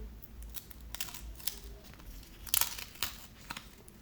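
Crisp crinkling and tearing of paper, with sharp rustling bursts as a paper sticker is peeled off, close by and without speech.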